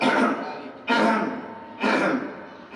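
Three loud coughs close by in a mosque, evenly spaced about a second apart, each a sharp burst that trails off, with no talking.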